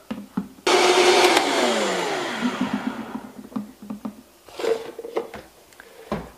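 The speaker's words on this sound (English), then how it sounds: "even if you don't have a Vitamix blender, you can just use a regular old blender or a Ninja" A regular blender blends a spinach shake, starting abruptly with a loud, steady motor whine that slowly winds down over a few seconds, followed by clattering and handling noises of the jar.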